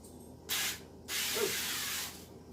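Two bursts of avocado oil spray from an aerosol can hiss up close, a short one followed by a longer steady spray.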